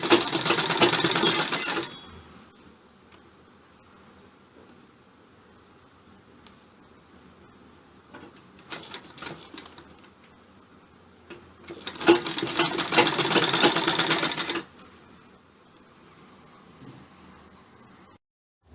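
A sewing machine stitches the sleeves of an umbrella-style frock, running in two bursts of fast, steady whirring separated by a quieter pause with faint handling clicks.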